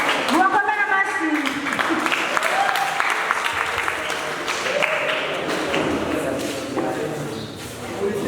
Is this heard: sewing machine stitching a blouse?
no